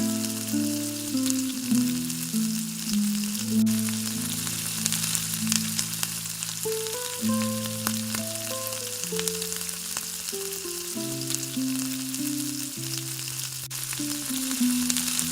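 Chopped tomatoes and onions fry together in a kadai, giving a constant near sizzle with occasional stirring that sits under a steady background melody throughout.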